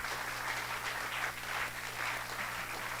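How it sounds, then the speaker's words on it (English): Audience applause for a panel of speakers at an innovation week launch event, a steady wash of many hands clapping at moderate distance with no talk over it. "Please give them a round of applause."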